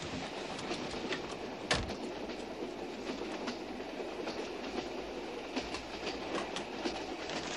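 A train running on rails in a 1979 film, steady close rumble and rattle of carriages with rhythmic clickety-clack and one sharp metallic jolt, with no voices.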